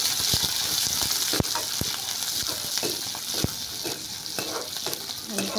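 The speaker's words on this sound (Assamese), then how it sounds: "পিঁয়াজ জলকীয়াখিনি ভাজি ল'ম।" Chopped onion and chillies fry in a pan with a steady sizzle and crackle, broken by sharp clicks and scrapes of stirring.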